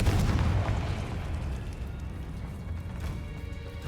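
Confringo blasting spell going off in Hogwarts Legacy, a loud booming blast at the start that rolls into a sustained low rumble and crackle, fading slowly over several seconds with no talk.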